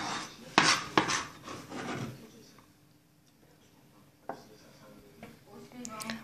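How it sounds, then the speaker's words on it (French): A knife chopping carrots, cucumbers and an onion into small pieces on a board while preparing Tahitian raw fish in coconut milk: a few sharp close knocks early on, then a quieter stretch with scattered light taps. "On hache en petits morceaux avec des carottes et des concombres et un oignon."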